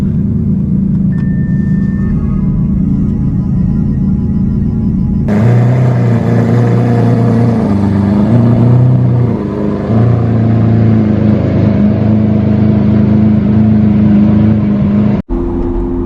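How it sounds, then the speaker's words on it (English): A Lamborghini Aventador engine runs while warming up, a loud steady rumble that deepens and thickens after about five seconds and holds a continuous idle tone until it cuts off sharply near the end, with no talking. "we gotta let the engine warm up"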